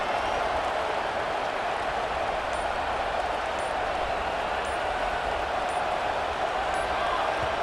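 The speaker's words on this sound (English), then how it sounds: "with this place rocking, the crowd forces a false start" Stadium crowd noise in the EA Sports College Football 26 video game, a steady, dense roar of cheering fans filling the whole stretch without letup, with faint higher calls scattered on top.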